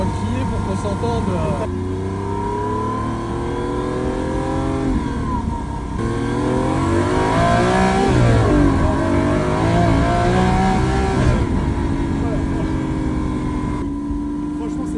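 Lamborghini Aventador SV engine roaring inside the cabin, a loud sustained drone with repeated rev surges and pitch sweeps that swell in the middle, while voices talk over it.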